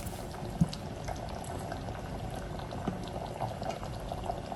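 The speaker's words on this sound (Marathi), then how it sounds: "कोडी शिजता थिंगा म्हाका 8 मिनिट्स लागले नुस्तें सारकें उकडपाक." Goan pomfret fish curry with fish roe bubbles in a clay pot, a soft steady simmer of small bursting bubbles with a few louder pops, heard close and fairly quiet.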